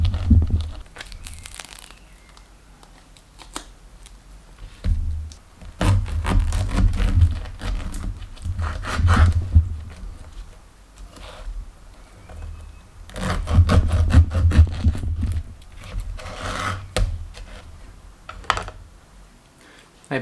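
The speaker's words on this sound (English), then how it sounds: "So I'm just going to cut it into wedges." A knife slices through a small-cored Portuguese pineapple, cutting it into wedges, with close, crunchy, fibrous cuts arriving in rough bursts separated by quieter pauses.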